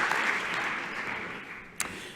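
An audience at a polytechnic graduation ceremony applauds a speaker after her story, a fading round of clapping that thins out steadily, with one sharp knock near the end.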